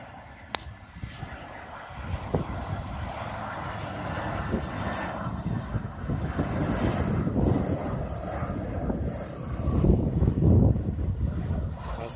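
A steady airplane engine roar builds gradually over several seconds as an airliner lands, swelling louder toward the end with wind rushing across the microphone.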